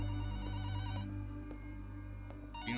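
Telephone rings in the horror video game Lust for Darkness, a bright electronic trill that cuts off after a second and then resumes, clear over a low steady game hum.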